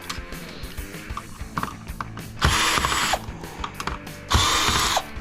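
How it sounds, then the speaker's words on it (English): A screw gun whirs and ratchets while backing screws out of an e-waste circuit board, with scattered clicks and handling noises and two longer, louder bursts of driving, close up and with no talking. "Let's keep going with the screw gun."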